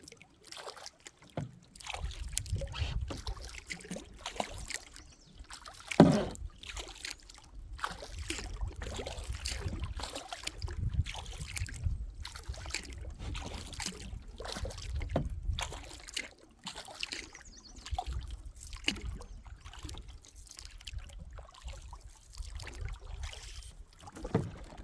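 A canoe being back-paddled on the Oswegatchie River in the Adirondacks, with soft, rhythmic paddle strokes and water swishes and trickles repeating close by, quiet and without talk.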